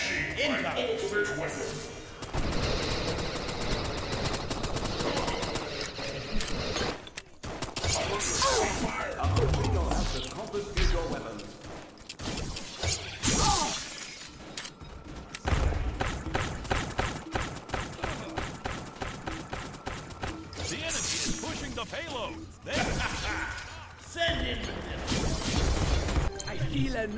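Airstrike and gunfire from the video game Q-Clash: repeated crashing blasts, whooshes and rapid shots fill the mix, loud and dense throughout, with game voices speaking over the combat.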